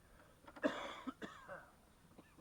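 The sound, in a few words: coughing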